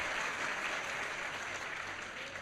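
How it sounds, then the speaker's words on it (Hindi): Audience at a spiritual class applauding for themselves, loud continuous clapping from a large crowd that holds steady and eases slightly toward the end. "तो ताली तो बजाओ अपने लिए।"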